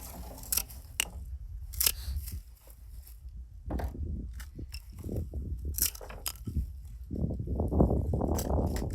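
Pruning shears snip an elderberry stick into cuttings for propagation, giving sharp, separate clicks and crunches at close range with brief quiet gaps between them, and no talking.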